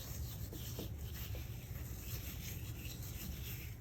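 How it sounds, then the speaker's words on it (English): Hands rub seasonings into a raw steak, a quiet, continuous close-up rubbing and rasping with no voices. "Rub the seasonings in."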